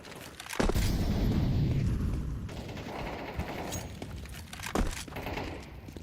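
A grenade detonates in a Counter-Strike match, a loud boom followed by a sustained rumbling blast with scattered gunfire around it, a second sharp burst coming near the end.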